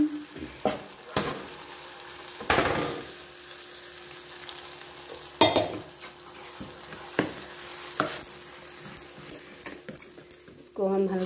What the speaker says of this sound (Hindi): अब इसमें डाल दूंगी मैं जो मैंने बैटर पीस रखा था